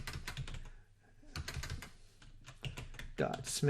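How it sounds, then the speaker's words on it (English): Keys clatter on a computer keyboard as an email address is typed into an Office 365 form, a quick irregular burst of nearby clicks with a short pause midway and some voice or background sound underneath. "here I just need to go in and type in the recipient's email address"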